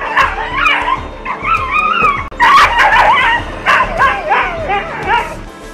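Street dogs give a close, busy mix of yips, whines and whimpering barks, overlapping in quick bursts with little pause between them.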